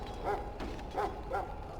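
Hounds barking in Dragon Age Origins, with three short barks spaced through a brief moment, moderately loud over a quiet murmuring camp background.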